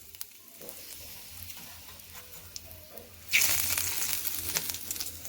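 Cumin, mustard seeds and curry leaves hit hot oil, starting with a quiet background and then bursting into a loud, steady crackling sizzle that carries on through the rest of the moment.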